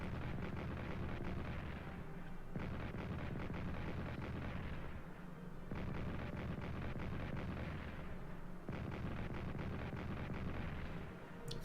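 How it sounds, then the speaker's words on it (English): Artillery fire in the World War I strategy game Strategic Command, set in the Caucasus: a dense, rumbling barrage coming in repeated waves of heavy booms and crackle, steady and sustained with no voices. "Artillery firing in the Caucasus."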